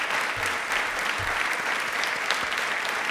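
Loud, steady audience applause at a Rajasthani quiz-show event, continuous clapping filling the whole stretch with no voices over it.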